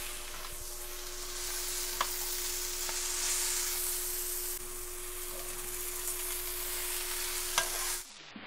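Shredded cabbage for vegetable lumpia sizzles softly in a pan as it is stir-fried, a quiet even hiss with a few light scrapes and a faint steady hum underneath.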